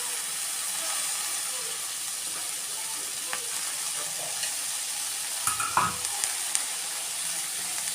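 Washed, chopped ponnaganti greens are stirred in a pan, giving a soft, steady frying hiss with a few spoon scrapes and taps partway through, moderately close, with no talk.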